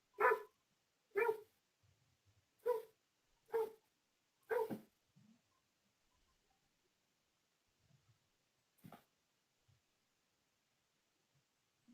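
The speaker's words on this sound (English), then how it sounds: "My dog's going off about something." A dog indoors barks in a series of five sharp, loud barks at a fairly quick pace, then one more bark after a pause, with faint quieter rustles between.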